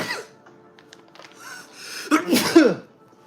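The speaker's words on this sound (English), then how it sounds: "I'm gonna sneeze." A single sharp sneeze bursts out near the end after a short quiet build-up, close and loud, followed by a brief breathy trail.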